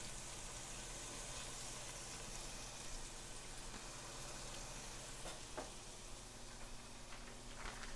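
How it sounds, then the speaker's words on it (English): Vegetables sear in fat in a hot pan, a quiet, steady sizzle with occasional soft pops and faint stirring clicks, heard up close and with no talking. "we're basically going to sear the veggies off first now"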